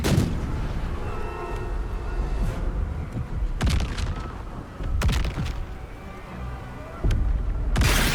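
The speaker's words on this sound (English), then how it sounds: "we just lost us and Scratch in a Nordloid airstrike attack" Airstrike explosions in Baldur's Gate 3: several heavy booms hit at scattered intervals, each a sharp crack with a rumbling tail, over a steady game ambience.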